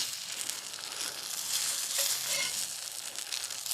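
Eggs fry in a once-seasoned skillet at a campsite, giving a steady, close, fairly loud crackling sizzle with a few brief brighter pops and no talking.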